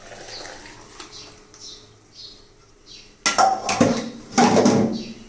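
A pot of sweet pumpkin curry is lifted off a stove and poured into another vessel, with faint clinks early on, then loud clattering metal-on-metal scrapes and knocks in two bursts.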